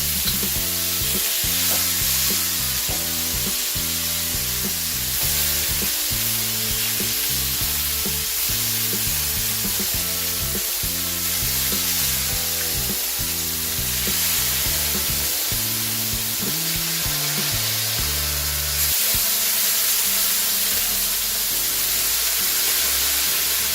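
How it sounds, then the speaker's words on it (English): Bacon for a copycat Burger King Bacon King burger frying in a pan, a loud, steady sizzle and hiss that runs without a break close by, with faint background music beneath it. "Now let that cook for about a minute until it starts to get some colour on the first side."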